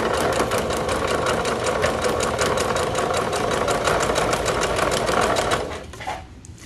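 Sewing machine stitching paper bag bloomers, a steady, close, rapid mechanical whirr of needle strokes that runs unbroken for several seconds and then slows and stops near the end.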